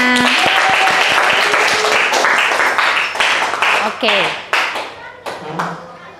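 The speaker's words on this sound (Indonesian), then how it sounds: "tepuk tangan dulu temannya" Classroom of students clapping for classmates after a presentation, a dense burst of hands that thins out and fades over several seconds, with a voice briefly audible near the end.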